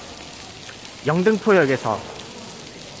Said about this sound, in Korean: 두 번째 돌 때부터 이제 비가 오더라고